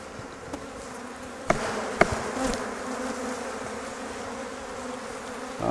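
Honey bees swarm and drone loudly around an open, feisty hive being split from a vertical Flow Hive, a constant close buzz broken by a couple of sharp knocks from handling the frames.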